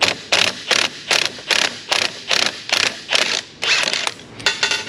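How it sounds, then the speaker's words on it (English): An impact gun hammers on a strut shaft nut during strut work on a Jetta, giving a close, loud series of rapid, evenly spaced rattling bursts. "As soon as you stop hearing the impact gun impact,"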